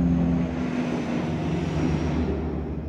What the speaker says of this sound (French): maintenant, on a un hélicoptère qui passe juste au-dessus de la maison.